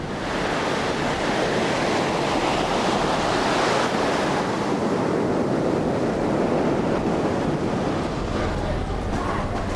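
Indian Ocean surf breaking on a beach at Perth, a loud, continuous roar of waves with wind buffeting across the whole span and no pause.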